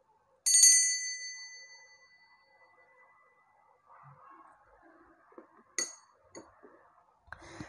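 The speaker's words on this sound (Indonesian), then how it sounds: "lonceng berbunyi." A single bright bell strike rings out and slowly decays, followed by faint rustling and a second, shorter chime later on.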